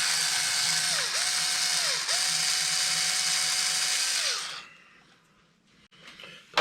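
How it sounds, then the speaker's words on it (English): A screw is backed out of a Traxxas 4-Tec 3.0 RC car with a power driver, which gives a loud, steady high-pitched whine in several bursts, then stops, leaving faint clicks and handling noise. "Go ahead and get down in here and grab this screw out quick."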